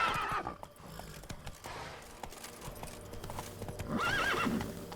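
Roach the horse gallops with rapid hoofbeats in The Witcher 3, whinnying at the start and again near the end, close and clear.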